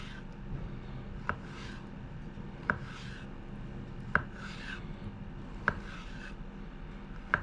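A knife slices through peeled mangoes on a cutting board, giving five evenly spaced sharp taps, each with a soft wet rub of the blade through the fruit, close and fairly quiet.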